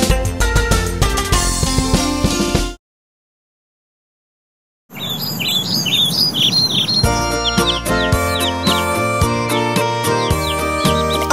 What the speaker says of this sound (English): Look at those two dicky birds.